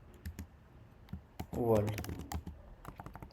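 Java code being typed on a computer keyboard: quick irregular clicks and keystroke taps up close, with someone speaking briefly over them partway through.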